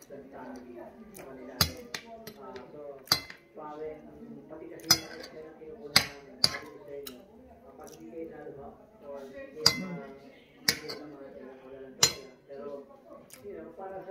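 Cutlery clinks and taps against dishes during a home meal of garlicky sinigang, sharp irregular clicks scattered over quiet, low-level talk nearby.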